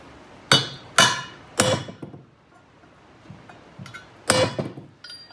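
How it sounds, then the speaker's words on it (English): Four sharp metallic hammer blows on the edge of a metal sleeve in a 1978 Ford Mustang control arm, three in quick succession then a pause before a final strike, each ringing briefly and close. "you're going to take a punch or your hammer and you want to hit the edge to push it down"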